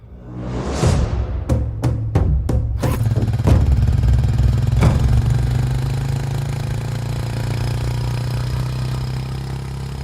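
A motorcycle engine idling close by, with a steady low rumble under a few sharp clanking hits near the start, holding at an even, loud level throughout.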